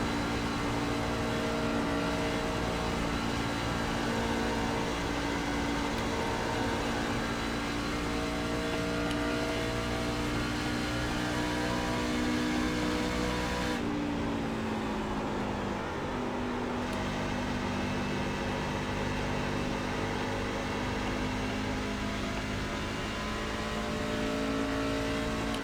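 NASCAR racing truck engine droning steadily at high revs on a hot lap at Darlington in iRacing, a continuous loud tone with a brief dip and shift mid-lap before climbing again, with no talk.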